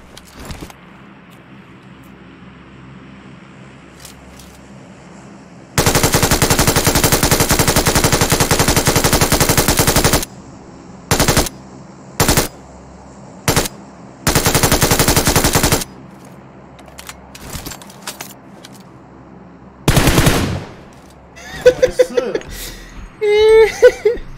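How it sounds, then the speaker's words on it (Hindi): Machine gun fire in PUBG Mobile, heard as long loud continuous bursts and several shorter volleys, separated by quieter gaps with faint game sounds and a brief laugh near the end. "मशीन गन वाले इनके ऊपर सक्सेस हो जाएगा"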